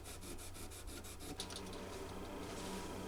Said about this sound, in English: we'll bevel the fret slot with the triangle file